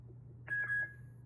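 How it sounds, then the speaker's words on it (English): K12 mini karaoke speaker giving a short electronic beep as its volume button is pressed, a single faint tone over a low steady hum. "every time you press the button, you will hear a beep"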